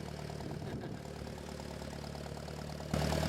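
A farm tractor idles steadily nearby while a chisel plough is being fitted, a low rhythmic engine thrum that grows slightly louder at the end.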